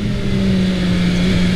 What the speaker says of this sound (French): Et ce moteur qui n'en finit jamais de pousser